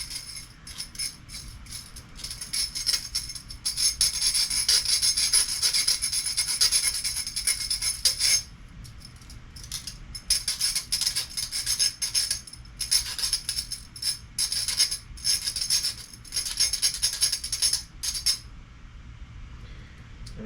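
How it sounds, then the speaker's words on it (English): A metal file roughs up the wire arm of a buzzbait fishing lure where the blade makes contact, giving a steady close scraping rasp with short breaks, no talking. "I'm just going to file the surface of the arm that will come in contact with the blade"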